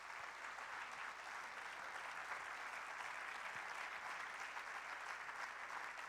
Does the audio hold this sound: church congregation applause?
yes